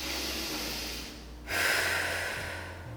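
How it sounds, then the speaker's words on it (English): Close, loud breathing during a diastasis recti abdominal exercise: one long breath out, a short pause, then a strong breath in, set against faint room hum. "breathe in and breathe out"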